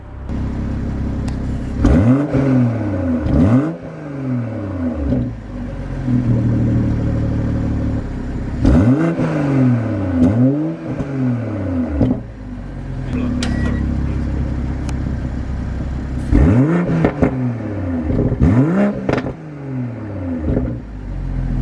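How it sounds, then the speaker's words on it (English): A 2020 BMW M340i with a B58 engine revs hard in repeated bursts, exhaust rising and falling in pitch, three clusters of throttle blips close by with steady idle rumble between. "You can hear right now the difference of the exhaust note."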